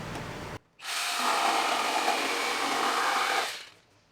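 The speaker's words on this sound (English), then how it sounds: "We're going to cut that out with the jigsaw." A jigsaw buzzes steadily as it cuts an arc in a wooden worktop, loud and close, starting abruptly after a brief pause and running about three seconds before winding down.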